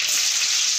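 Garlic fries in hot oil with cumin and mustard seeds for an old-style tamarind rasam tempering, a brief, loud, even crackling hiss with no talk.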